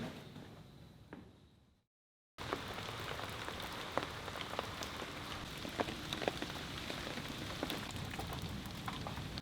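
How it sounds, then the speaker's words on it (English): Steady heavy rain pours down outdoors, a dense continuous hiss with scattered drop impacts, briefly cutting out for a moment before resuming at full strength and staying constant throughout. "it has been pouring down rain today"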